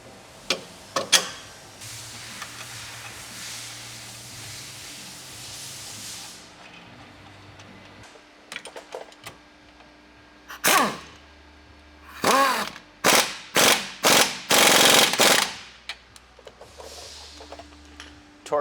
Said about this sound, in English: I'm gonna go ahead and jack up the rear axle